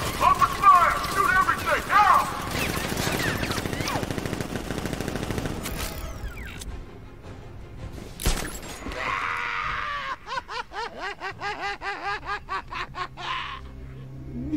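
Bursts of rapid automatic gunfire come from a militia ambush in the video game Batman Arkham Knight. Near the end they become a rhythmic string of sharp repeated shots, mixed with voices and snickering game sounds.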